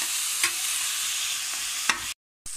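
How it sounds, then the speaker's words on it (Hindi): Tomatoes with green chilli and ginger sizzle steadily in a pan as they are stirred, a loud continuous frying hiss broken by a few scraping strokes of the spoon and a brief gap. "और टमाटर को हम सॉफ्ट होने तक पकाएंगे।"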